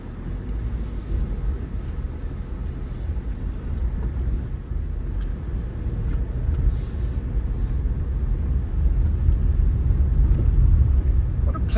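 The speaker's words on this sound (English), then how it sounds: "What a pleasant little car to drive." A Subaru Outback Wilderness cruises along a road, its steady low engine and tire rumble droning continuously with light wind noise, growing slightly louder toward the end.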